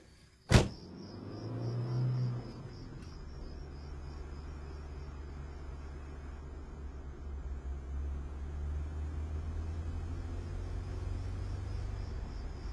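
Car moving along with passengers riding inside, a sharp knock near the start, then a steady low engine and road rumble with a faint high whine throughout.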